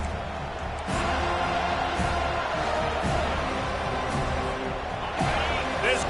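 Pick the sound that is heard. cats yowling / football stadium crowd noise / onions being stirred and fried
football stadium crowd noise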